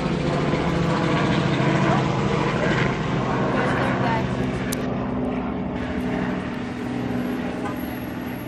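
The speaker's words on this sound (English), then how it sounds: "The chopper." A loud, steady roar of a helicopter flying nearby, its engine and rotor noise filling the air, with people talking over it.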